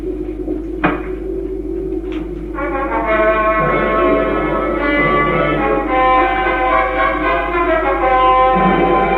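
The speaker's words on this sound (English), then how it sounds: "bells, of course." Church bells ring in an audio drama of The Canterville Ghost. After a couple of sharp knocks, sustained resonant tolling swells and holds at a steady, fairly loud level.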